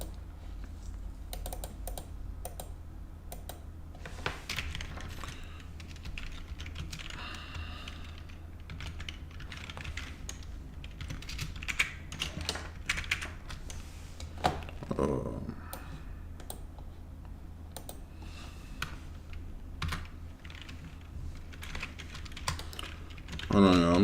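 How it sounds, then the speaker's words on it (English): Typing on a computer keyboard, bursts of quick key clicks with short pauses, fairly close, continuing for a long stretch with faint background sound and occasional louder clacks. "I'm just typing out this description section."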